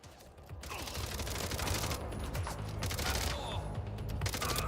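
Sustained gunfire from the Mindseye video game, a dense, loud rattling fusillade of rapid shots with mechanical clatter running continuously, nearly without pause throughout.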